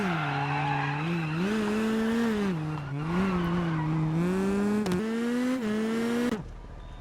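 A WRC Generations rally car in a video game spins donuts, its engine holding a loud, steady wavering drone while the tires squeal and skid continuously for about six seconds, ending abruptly.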